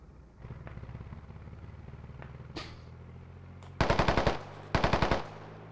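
Rifle fire in the military video game Squad, two rapid automatic bursts of close, loud shots following a few scattered single cracks over a low vehicle-like rumble.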